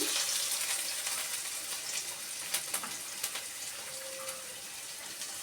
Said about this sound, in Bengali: আমি তেল বসিয়ে দিয়েছি, আমি তা ফার্স্টে দেবো পেঁয়াজ কুচি, রসুন কুচি